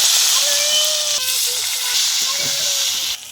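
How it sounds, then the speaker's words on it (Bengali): Spices for cauliflower khichuri fry in a pan with cardamom, cinnamon, chilli, panch phoron and tomato, giving a steady close hiss and sizzle throughout, with a brief dip near the end. "তো আমি খিচুড়ির মশলাটা কষে নিচ্ছি"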